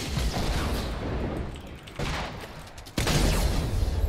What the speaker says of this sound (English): fuck off with these rockets